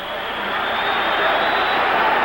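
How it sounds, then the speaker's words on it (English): A boxing arena crowd at a 1964 title fight between Joey Giardello and Rubin Carter roars in a loud, steady wash of cheering that swells slightly over two seconds. "Listen to the crowd. They love it."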